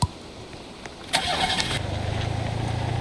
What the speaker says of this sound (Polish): Taki skuterek.